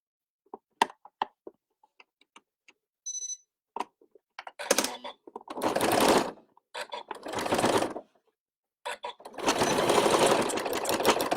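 A sewing machine stitches elastic for a knotted fabric headband, running forward and in reverse in several separate bursts. Short, close mechanical runs are split by pauses, beginning with a few faint ticks and ending in one longer, steady run.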